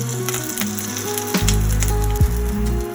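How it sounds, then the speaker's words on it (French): Asparagus cooks in a little oil in a pan, sizzling and spitting softly, while low mechanical hums and a couple of sharp knocks sit underneath, with no voices. "on utilise donc cette petite huile pour la cuisson de nos asperges"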